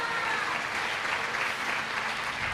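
A church congregation claps loudly and steadily, a dense, continuous wash of many hands filling the whole moment with no break.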